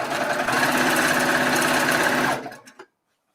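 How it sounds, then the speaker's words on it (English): A sewing machine runs steadily, stitching binding strips onto a quilt, a continuous close whirring buzz for over two seconds before it slows and stops, followed by a couple of faint clicks. "And now I'm sewing V to V."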